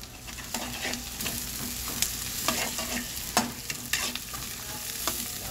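Garlic sautés in a very hot pan, a dense continuous sizzle broken by frequent sharp scraping stirs of a spatula, close and fairly loud.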